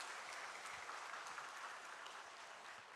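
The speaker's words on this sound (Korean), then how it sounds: "박수 한번 하겠습니다." A church congregation at a Sunday worship service claps together, a dense, even round of applause that holds steady for three seconds and sounds faint and distant.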